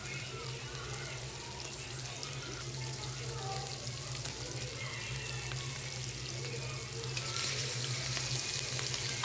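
Hilsa fish pieces frying firmly in hot oil in a pan, with a steady, close sizzle and crackle throughout that swells slightly louder toward the end.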